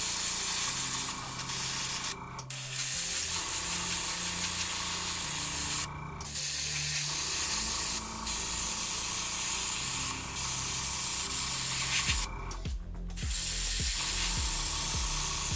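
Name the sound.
Grex airbrush spraying thermal color paint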